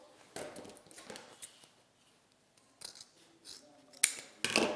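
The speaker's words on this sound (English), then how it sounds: "Slide my scissors under there and cut that ribbon" Scissors snip through ribbon for a deco mesh ruffle wreath, several short crisp cuts in quick bursts with quiet pauses between, close and alone.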